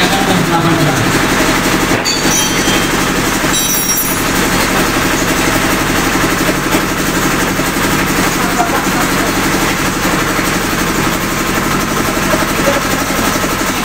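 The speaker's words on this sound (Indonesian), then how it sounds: "mesin untuk pengemas otomatis untuk kemasan yang paling kecil, yang mini, atau kemasan saset" An automatic sachet packaging machine at a palm sugar producer's workshop runs with a loud, steady mechanical drone and rhythmic clatter throughout, unbroken for the whole stretch.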